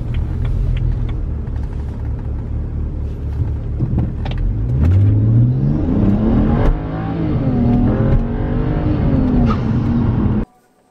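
A BMW E90 fitted with a RacingDiffs limited-slip differential accelerating hard through the gears, its engine note climbing steadily, dipping at a shift, then rising again as a loud, close, continuous drone.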